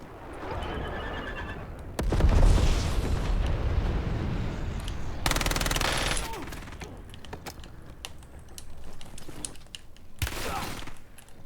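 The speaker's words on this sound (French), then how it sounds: "Je me fais tirer dessus." Gunfire in the Warzone video game: bursts of loud, rapid shots in clusters separated by quieter stretches, with a player talking at times.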